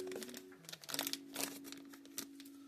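Scissors slicing through a thick plastic comic book bag, giving close crinkling and snipping bursts with brief pauses between cuts, quiet and free of speech.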